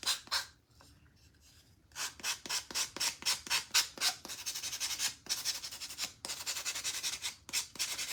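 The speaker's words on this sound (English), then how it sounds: "Now you want to be careful going across your inlay with your sanding tool, because you don't want to sand too much off" Sanding tool rubbed back and forth over a painted IOD inlay, making a steady run of close, scratchy strokes in a quick rhythm after a brief pause.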